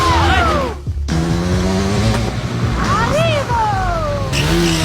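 A 125cc motorcycle revs and pulls away in repeated rising and falling engine sweeps, loud and close, with brief gear-change dips and a steady drone between.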